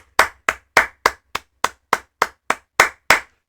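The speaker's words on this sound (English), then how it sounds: "Round of applause for Jynxzi." Slow applause for a streamer comes from a single pair of hands: eleven sharp, close claps, evenly spaced about every third of a second, with nothing else heard.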